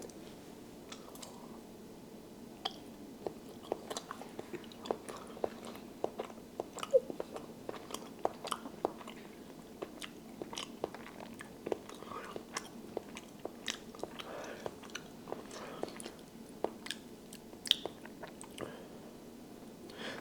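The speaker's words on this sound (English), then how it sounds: "apparently they eat butter just like that, straight off the stick, unsalted, ready to go." Bites and chewing of unsalted butter eaten straight off the stick, a steady run of close, soft, wet crunching and squishing mouth sounds over about twenty seconds, with no talking.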